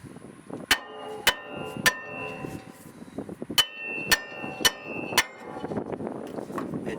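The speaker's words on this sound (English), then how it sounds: "we're going to use our big freaking hammer" Six sharp, ringing strikes of a big hammer on a 2015 Ford F-150 rear brake rotor, spaced unevenly, each leaving a bright metallic ring, with some talking and clatter between blows.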